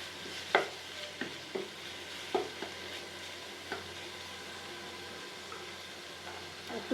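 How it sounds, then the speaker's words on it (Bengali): Spice masala of onion, chopped tomato, green chili, turmeric, salt, cumin and chili powder sautéing in a pan, a low steady sizzle broken by spaced scraping stir strokes, with no talk. "মশলাটা ভালো করে কষিয়ে নিয়েছি"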